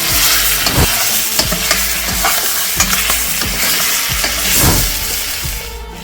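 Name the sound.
chicken frying and sizzling in a pan after being flipped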